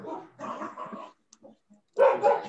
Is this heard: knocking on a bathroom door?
no